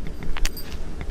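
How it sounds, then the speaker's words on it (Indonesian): Motorbike keys drop with a short metallic jangle at a reputedly haunted spot, a few light clinks over steady low ambient rumble. "kunci motor kok jatuh"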